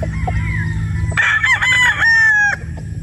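A rooster crows loudly nearby, one long strained call over a low background hum, ending abruptly.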